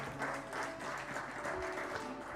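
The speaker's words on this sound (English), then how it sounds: "A round of applause, ladies and gentlemen." An audience at an academic panel discussion claps in steady, dense applause that fills the hall without pause.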